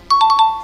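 A DJI Osmo Mobile 3 smartphone gimbal powers on with a short, clear electronic chime of four quick rising tones, close and loud, lingering briefly before fading.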